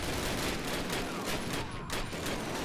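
Dense suppressing gunfire in Call of Duty 1 on a D-Day airborne mission, a continuous loud barrage of rapid rifle and machine-gun shots with a brief dip partway through.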